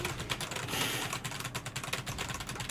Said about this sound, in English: Nothing is more responsive than a mechanical keyboard.